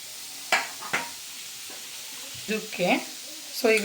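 Spices and lentils fry in oil in a pan for sambar, with onion, garlic, byadagi chillies, tamarind and coconut; a faint, quiet sizzle is broken by a few short clinks and stirring scrapes.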